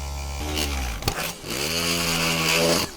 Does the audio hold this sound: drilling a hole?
yes